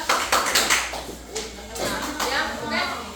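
A classroom of children claps hands in a counted rhythm, several sharp claps bunching together early and again later, mixed with a voice speaking over them.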